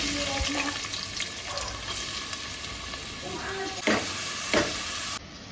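Chopped onion with fenugreek and fennel seeds frying in coconut oil, a close, constant sizzle with stirring scrapes and a couple of louder spoon knocks near the end, joined by faint background tones.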